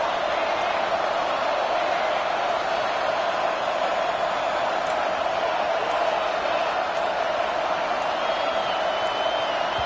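Football stadium crowd roaring loudly, a dense, sustained wall of cheering noise that holds steady with no breaks.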